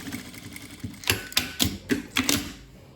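A sewing machine runs a safety seam along the edge of a towel, its needle clattering in short rapid bursts that repeat about six times, close and crisp with brief pauses between.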